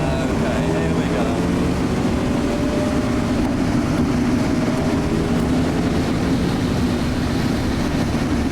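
Wind roar fills a car's cabin at speed on a race track, a dense broadband rush blended with a steady low engine drone and faint rising tones, continuous throughout.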